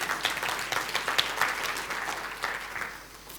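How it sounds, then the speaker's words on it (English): A conference audience gives a short burst of even clapping, dense and steady throughout, with no voices over it. "So I think that's worth a clap,"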